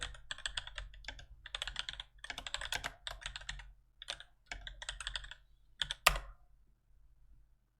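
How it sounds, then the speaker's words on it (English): Rapid bursts of typing on a computer keyboard, close and fairly quiet, in several separate runs of clicky keystrokes with short pauses, ending with a sharper key press and then near silence. "get rid of that and then type in something"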